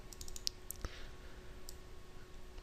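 A computer mouse clicks in a few sharp, quiet taps, including a quick double click, close and crisp over a faint electrical hum, with no talk.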